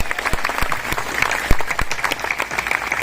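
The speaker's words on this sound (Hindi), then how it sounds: "एक बार जोरदार तालियां।" An audience at a ceremony gives loud, lively applause, with dense clapping and a few sharp, distinct claps standing out near the front.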